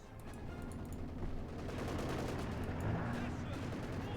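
Rapid gunfire crackles in Company of Heroes 2, a World War II strategy game, with bursts of machine-gun and rifle shots layered over a rumbling battle din as a skirmish unfolds around a capture point.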